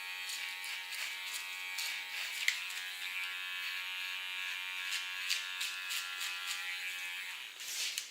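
A small electric hair clipper buzzes steadily and close while cleaning up the hair contour on a medium-long bob, its hum broken by brief rasping snips as it meets hair, with no talking.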